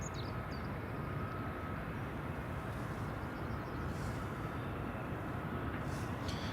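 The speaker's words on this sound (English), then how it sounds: "Here comes the Embraer 190. It's about to land on runway 24." An Embraer 190 landing on runway 24 at Edinburgh Airport, heard as a steady, dense broadband roar that holds at a constant loudness throughout, distant-to-moderate and unbroken, with no voices.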